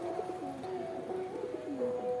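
Pigeons coo steadily at close range, a soft run of warbling, throaty calls repeating back to back for the whole stretch, with no voices over them.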